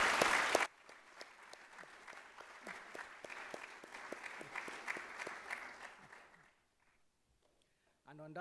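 An audience at a university math fair applauds the sponsors, a loud burst of clapping that swells and carries on for several seconds before fading to near silence.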